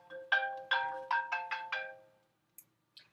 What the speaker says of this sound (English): Sorry that my phone rang.